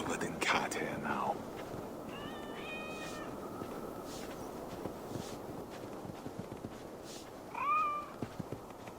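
Several cats meow in Assassin's Creed Valhalla, with a couple of clear, rising mews early on and another near the end, set over quiet footsteps and low murmuring ambience.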